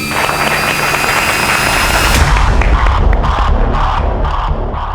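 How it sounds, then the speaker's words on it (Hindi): A large crowd roars and cheers loudly, a dense wall of sound with clapping, continuous throughout, a steady tone fading in the first half. "जोरदार तालियों से स्वागत कीजिए"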